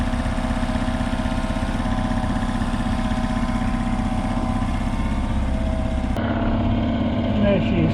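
A replacement engine runs steadily right after a single pull start, a constant loud drone with harmonic hum that shifts in tone near the end, as a voice talks over it.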